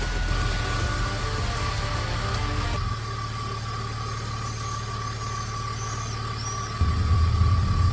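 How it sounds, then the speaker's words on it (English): A BMW E36 or E46 engine with a faulty idle control valve idles roughly up close, its low rumble shifting unevenly in pitch and level, with no voices. "we can listen to the engine"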